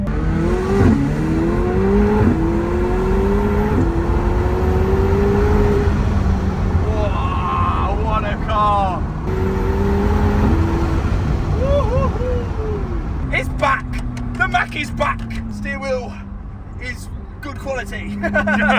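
A McLaren sports car engine revs and shifts while driving, rising and falling in pitch through gear changes, loud and close inside the cabin as people talk over it.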